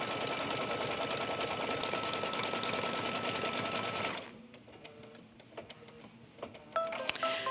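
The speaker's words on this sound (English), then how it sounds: "It's stitching a triple stitch right here at the fold of the cork to hold it nice and flat and in place." Sewing machine triple-stitching along the fold of a cork tote bag: a fast, steady, loud mechanical whirr for about four seconds, then it stops, leaving quieter clicks and handling taps.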